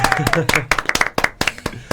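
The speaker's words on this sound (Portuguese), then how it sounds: "Palmas!" Sharp, scattered handclaps from a small group in a casual indoor gathering at a care home, with speech running underneath the uneven bursts of clapping.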